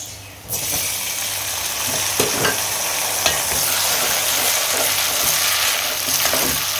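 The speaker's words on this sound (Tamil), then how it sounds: "இப்போ நம்ம தக்காளி போட்டுக்கலாம்." Tomatoes dropped into frying onions in a pan for a drumstick fish curry, followed by a loud, continuous sizzle close up with occasional stirring scrapes and no talk.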